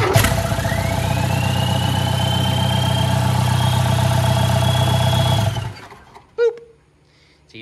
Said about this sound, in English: I'll pull that wire off and it'll quite literally just shut the whole engine off